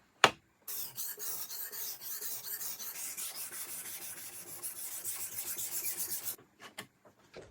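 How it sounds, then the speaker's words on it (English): A Senzo santoku knife scraping back and forth on a coarse, soaked 120/320 grit whetstone while rust and a chip are ground away; a steady, close rasping stroke rhythm runs for several seconds, bracketed by brief knocks. "we'll start by removing the chip and grinding away all the rust on the coarsest 120 and 320 grit stone."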